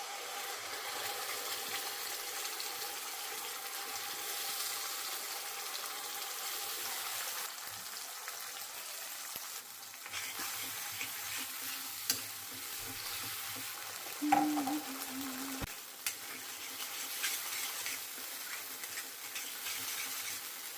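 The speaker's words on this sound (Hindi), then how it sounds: "देखिए मसाला बहुत अच्छी तरह से भुन गया है" Ground masala with a bay leaf fries in mustard oil, making a continuous close sizzle for about twenty seconds. Occasional scraping and tapping of a spoon stirring the pan sound under it, with no talking.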